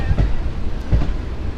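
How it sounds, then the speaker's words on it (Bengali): Kolkata local train pulling out of Majerhat station, a low rumbling rush with two heavier thumps of wheels over rail joints, steady and close, heard from on board without talk. "অ্যাট লাস্ট আমাদের ট্রেন ছাড়লো মাঝেরহাট স্টেশন থেকে"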